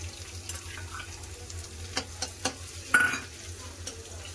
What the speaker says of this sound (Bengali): মাছের ডিম পেঁয়াজ ভালো করে ভেজে নিয়েছে